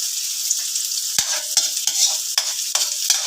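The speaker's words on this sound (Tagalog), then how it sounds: "Kaya sibuyas at bawang na lang ang ginisa ko dito." Chopped onion and garlic sauté in a hot pan for a Filipino fish sarsiado, giving a steady, close sizzle broken by sharp spatula scrapes and stirs at irregular intervals.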